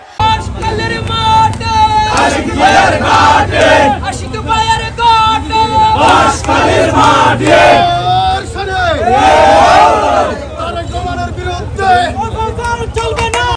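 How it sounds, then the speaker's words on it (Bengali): A large, loud crowd at a BNP protest rally in Banshkhali, Chattogram, chants slogans in rhythmic bursts, voices rising and falling together in a dense roar of shouting. "চট্টগ্রামের বাঁশখালীতে বিক্ষোভ মিছিল ও প্রতিবাদ সভা অনুষ্ঠিত হয়েছে"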